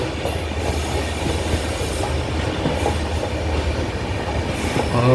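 A train rumbles steadily through a railway station near Parassala, a loud continuous roar of wheels and carriages with faint rhythmic clatter, no voices.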